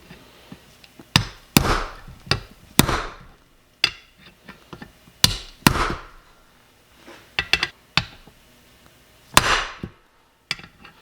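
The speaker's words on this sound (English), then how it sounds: "Now we're just going to hammer in our bearing." Sharp, irregular metallic hammer strikes, close and loud, some in quick pairs, separated by short pauses while a bearing is driven into a Yamaha YZ125 engine bottom end.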